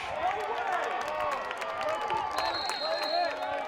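A lacrosse crowd on a warm day in Troy boos and murmurs in a steady wash at an NCAA tournament game against Amherst, with a commentator talking over it.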